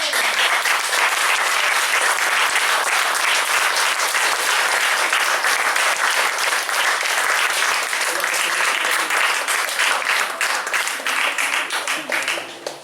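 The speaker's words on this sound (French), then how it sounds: "Applaudis bien fort en musique." Sustained, loud applause from an audience fills nearly thirteen seconds as a dense, steady wash of clapping, easing slightly only near the end.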